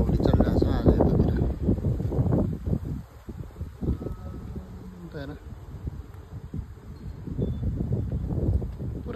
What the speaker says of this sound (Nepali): हावा चलिरहेछ, हावा उडी साह्रै हावा उडी चलिरहेछ आज यतातिर